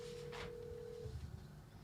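A telephone call is dialed, giving a short steady tone followed by a faint burst, against a low background hum.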